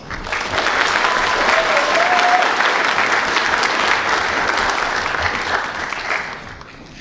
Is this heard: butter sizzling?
no